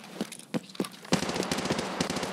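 Rapid automatic gunfire from an AK rifle in a game, several sharp bursts in the first second, then a dense, sustained rattle of shots continuing to the end.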